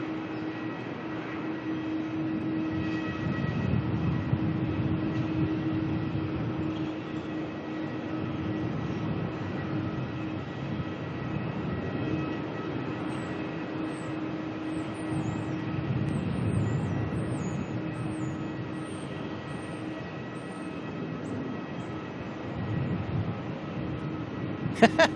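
A Vietnam Airlines airliner taxiing at Melbourne airport, a steady, distant jet engine hum with a constant low drone that holds for the whole stretch, faint background noise around it.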